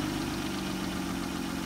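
A car engine idling steadily after being jump-started, a low even rumble with slight vibration, close and continuous for a moment with no voices.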